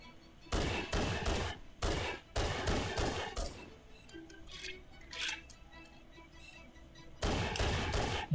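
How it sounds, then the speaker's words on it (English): Pistol gunfire in Halo on Legendary difficulty during the Assault on the Control Room, a burst of sharp shots, a pause with scattered game effects, then a final burst of firing. "I'm going to take out my pistol and just take him out the hard way"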